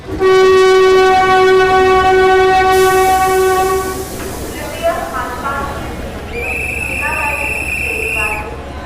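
The Jodhpur Mumbai Express at a station gives a long, loud horn blast, followed by a second, higher horn as it departs, while the crowd chatters underneath.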